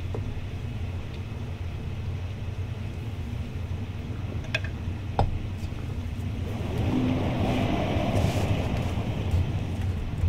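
Water rushes steadily in a flooded temple in Tomb Raider IV, a continuous wash that swells louder toward the end, with a couple of sharp clicks partway through and no talking.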